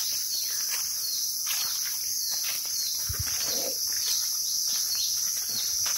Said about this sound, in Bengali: ঝিঝি পোকার ডাক, পাখির আওয়াজ।